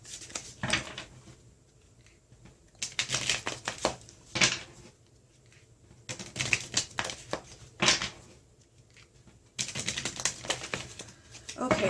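A tarot deck is shuffled by hand in repeated bursts of crisp riffling and flicking cards, close up, separated by quieter gaps.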